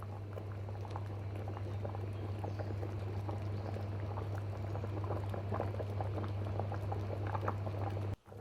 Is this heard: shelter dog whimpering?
no